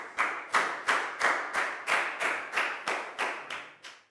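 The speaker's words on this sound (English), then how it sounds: "a big round of applause for Nadia, guys." Classroom applause from a group of pupils, about ten sharp, evenly spaced bursts of clapping in a steady rhythm, fairly close and alone without talk.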